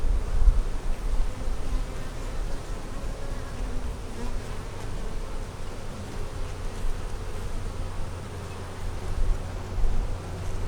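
Honey bees swarm around an opened double-deep 8-frame hive, their buzzing a continuous dense drone that stays close and steady throughout with no talking.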